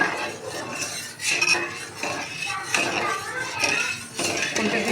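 A spatula stirs turmeric and salt into fruit chutney in a pan. It makes repeated scraping and clinking against the metal in uneven bursts, close and fairly loud, with faint voices in the background.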